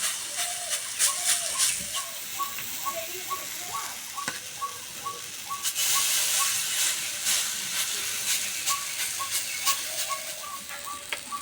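Mango and flattened rice batter sizzling on an oiled griddle makes a steady, fairly soft hiss, with faint rhythmic ticking and small clicks over the top and no talk.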